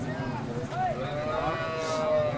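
A cow lets out a long, low moo up close at a cattle market in Sangola, with a steady background hum and faint farmyard noise.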